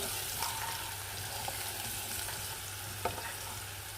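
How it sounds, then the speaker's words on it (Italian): Chopped onion with salt cooking in a pan, a steady soft sizzle with faint stirring clicks throughout, fairly quiet and close, with no voices. "È molto importante far cuocere prima la cipolla senza nulla"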